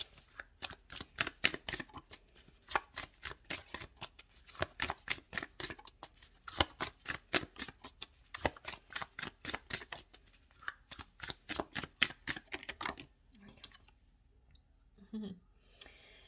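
Tarot guidance cards being shuffled, a rapid run of crisp riffling clicks in fast regular bursts, close and quiet, thinning out toward the end.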